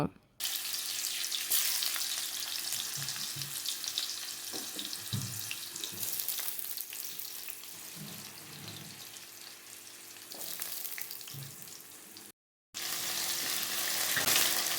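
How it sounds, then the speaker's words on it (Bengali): Potato pieces frying in oil over a cumin and dried red chilli tempering give a loud, continuous close sizzle, broken by brief stirring scrapes and a short gap of silence near the end. "আলু আলুগুলো দিয়ে আমি অনেকটা একটু ভাজা ভাজা করে নেব"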